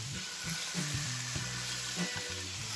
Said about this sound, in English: After a minute of saute, mix everything together